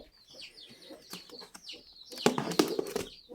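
Chickens and their chicks cluck and peep in a nervous flurry around feed, several birds calling at once, rising to a louder, busier burst of clucking and fluttering in the latter half.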